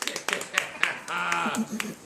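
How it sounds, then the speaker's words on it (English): A small demonstration audience at a floral art demo gives thin, scattered clapping, only a handful of sharp separate claps, while a voice talks over them. "that's cheap applause"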